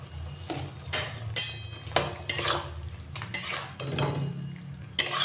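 A pot of vegetarian flat bean curry with coriander paste being stirred, the spoon clinking and scraping against the metal in irregular bursts over a low, steady background hum.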